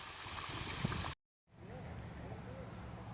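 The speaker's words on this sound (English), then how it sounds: "Coming down to Pearisburg, and I get an incredible waterfall." Rushing water of a waterfall near Pearisburg on the Appalachian Trail, a steady broadband roar that cuts out briefly partway through, then resumes with faint bird chirps over it.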